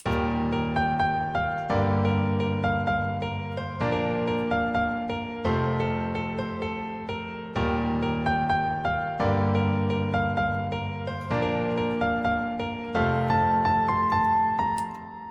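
A progressive house drop built in FL Studio plays alone, with rich sustained chords that pump rhythmically in repeating bars over a deep low end.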